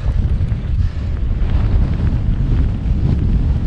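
Strong wind buffets the microphone on the slopes of Slieve Donard, a steady loud roar with deep rumbling gusts throughout and no voices.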